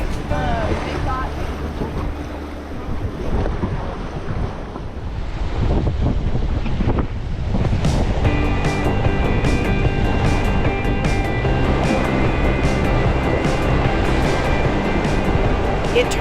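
White-water rapids roar loudly and steadily through a raft trip on a high-water river near Moab, Utah, with rushing water and gusting wind buffeting the microphone throughout.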